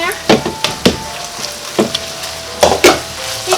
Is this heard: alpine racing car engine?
no